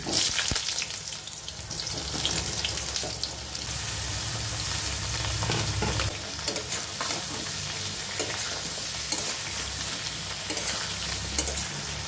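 Chopped ridge gourd frying in oil with nigella seeds and broken green chillies, a dense continuous sizzle with stirring scrapes and clatter, close and loud throughout.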